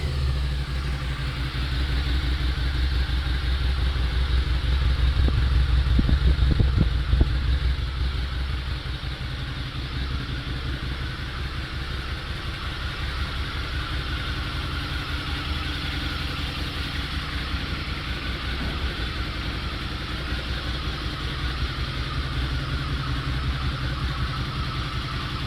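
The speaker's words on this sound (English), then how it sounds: "Let me just give it a little bit more of a rev for you to get the idea." A Harley-Davidson V-Rod Night Rod on its stock exhaust idles with a steady low engine rumble, rising in a short rev around the middle before settling back to idle.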